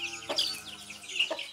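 Hens and chicks being let out of their coop, with a couple of close, distinct clucks over soft continuous peeping and low background noise.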